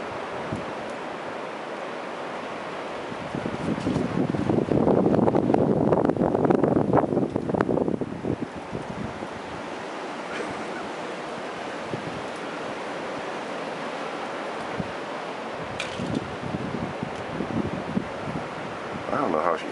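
Strong windstorm gusts in Virginia buffet an outdoor microphone, swelling into a loud roaring rush midway before easing to a steadier blustery noise with scattered rustling; no talking.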